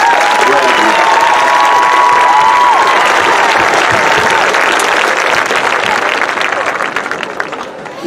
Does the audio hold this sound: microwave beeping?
no